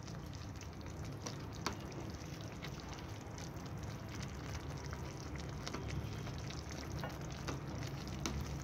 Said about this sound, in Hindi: आलू डाल दिया पहले, भिंडी भी डाल रहे हैं।